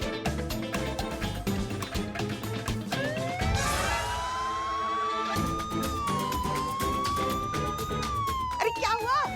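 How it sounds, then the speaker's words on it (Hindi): A police car siren wails with rising and falling sweeps over busy background sound, steady and fairly close, while people talk over it. "मेरा सायरन क्यों बजा रही हो?"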